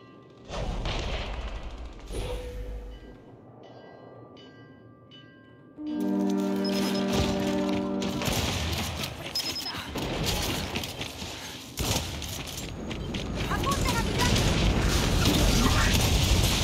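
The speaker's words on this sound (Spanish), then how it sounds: "qué alboroto con ese disparo" Loud booming Gears 5 gunshots and blasts punctuate a noisy, shifting soundscape with electronic tones, one heavy burst after another.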